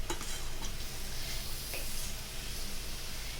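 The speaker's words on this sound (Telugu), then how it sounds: "నెయ్యి వేసుకొని మంచిగా కలిపేసుకోవాలి అడగంటకుండా చూసుకోవాలా" Motichur laddu mixture is stirred with ghee in a pan on the stove, a continuous low sizzle with faint scraping of the utensil, close and steady without talking.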